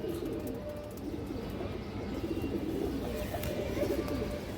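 Low pigeon coos murmur continuously at close range over a soft background hum, several birds overlapping.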